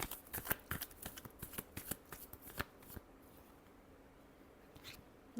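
A deck of tarot cards shuffled up close, a quick run of crisp riffling snaps and flutters for about three seconds before it settles into quiet room tone with one faint rustle.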